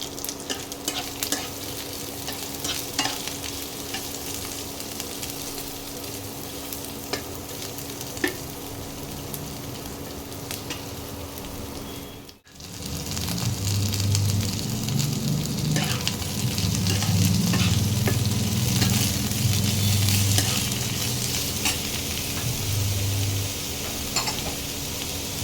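Bay leaf, two dried red chillies and a piece of cinnamon frying in hot oil for fried rice, a soft continuous sizzle with occasional stirring scrapes and clinks, louder and busier in the second half.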